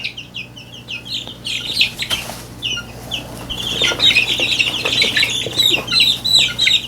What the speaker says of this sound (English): that's supposed to be a rooster.